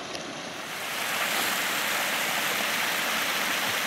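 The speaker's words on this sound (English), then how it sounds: "there's a beautiful stream running down through it" A stream runs down through a ravine on a Mount Carleton Park hiking loop in a dense, continuous rush of flowing water. It sounds close and loud and builds slightly after the first second, with no talking.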